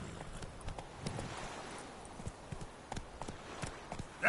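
Roach the horse gallops in The Witcher 3, a quick rhythmic clip-clop of hooves drumming steadily and fairly close over a soft background rumble.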